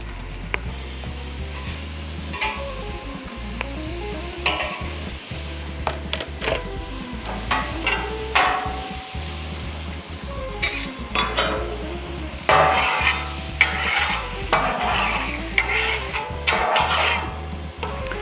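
Butter sizzles loudly and steadily on a hot Blackstone griddle beside smash burger patties, with repeated scrapes and taps of a spatula through the whole stretch; no one talks.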